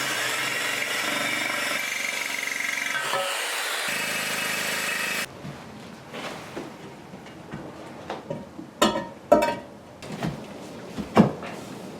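A diamond-tipped drill bit drills through ceramic tile, a steady loud grinding whine that stops partway, followed by scattered knocks and scraping handling sounds.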